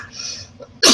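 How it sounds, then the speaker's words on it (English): A man lets out a single sharp cough at the very end, loud and close, after a brief stretch of faint murmuring. "Excuse me, I haven't coughed all day."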